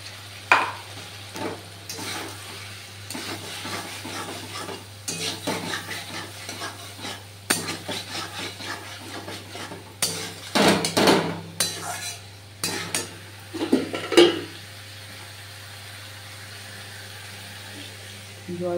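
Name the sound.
stirring pointed gourd frying in a pan for curry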